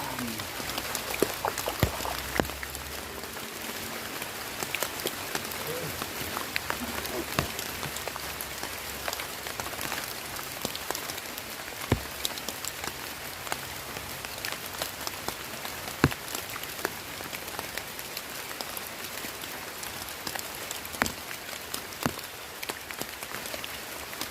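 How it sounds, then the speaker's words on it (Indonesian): Rain falls in a forest, a dense continuous patter on leaves and surfaces with sharp individual drops ticking out at irregular moments, close and steady for the whole stretch. "Hujan."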